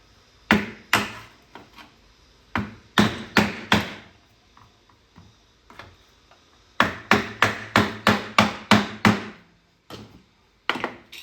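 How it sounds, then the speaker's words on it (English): Hard metallic strikes on a flathead screwdriver knock a stuck part loose during a teardown of a Bally pinball machine, loud close blows in uneven bursts, with a long rapid run of evenly spaced hits. "So if that happens, take a flathead and hit it right to left."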